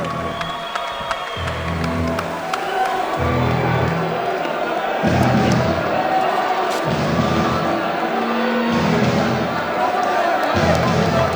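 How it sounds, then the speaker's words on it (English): Crowd at a kickboxing gym fight night cheering and clapping for two fighters after a decision, an ongoing mix of applause and shouts under a loud announcer's voice, with recurring thuds. "Let's have a round of applause, ladies and gentlemen, for these two men as they leave"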